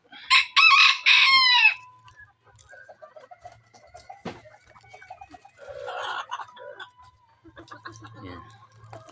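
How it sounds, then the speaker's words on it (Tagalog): A silver Sebright bantam rooster crows loudly and close by in three quick bursts, then chickens keep up a soft, scattered clucking and chattering in the background. "Ito yung ating silver sebright."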